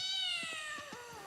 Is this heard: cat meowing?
yes